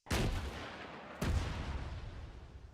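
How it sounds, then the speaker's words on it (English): Two loud rocket launches in a video game, a sharp blast at the start and a second about a second later, each trailing off into a rumbling boom. "Okay, rocket."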